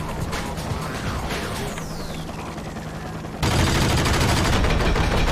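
Gunfire in the 2003 game Enter the Matrix, a continuous rattling burst of rapid shots with mechanical clatter that jumps to a louder, denser barrage partway through, no speech.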